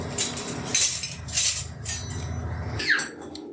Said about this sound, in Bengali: এদিকে আমার মেয়ে হাতা খুন্তি নিয়ে কি করছে